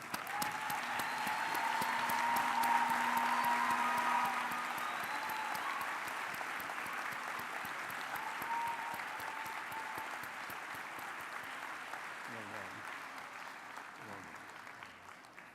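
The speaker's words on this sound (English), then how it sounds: "all of us give a round of applause" A large audience claps at a university graduation ceremony at the University of the Western Cape, the applause swelling early and then holding steady for roughly fifteen seconds, with faint voices underneath.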